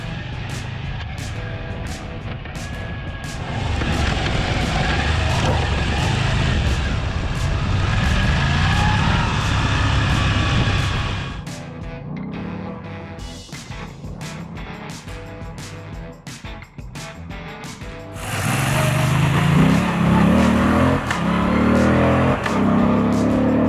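A Moto Guzzi V85TT motorcycle rides down a mountain road near Pine Mountain Club, California, its engine droning steadily with wind rush and shifting revs throughout, swelling louder toward the end.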